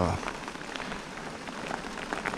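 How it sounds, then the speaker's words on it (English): Rain falling on a small aluminum boat on the water, a steady close patter with faint scattered drop hits. "Once this rain slacks up a little bit, it'll be less choppy."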